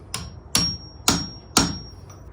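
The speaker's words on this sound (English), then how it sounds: "Here's the machinist's punch." Hammer striking a machinist's punch against an antique Eastlake door hinge on a door being mounted: four sharp metallic taps at an even half-second rhythm, close and clear, followed by a faint fifth tap.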